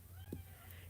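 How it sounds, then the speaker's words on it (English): A pet cat gives a single short, faint meow over a steady low indoor hum. "Now he's meowing."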